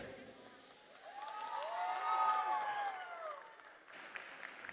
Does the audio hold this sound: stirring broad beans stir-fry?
no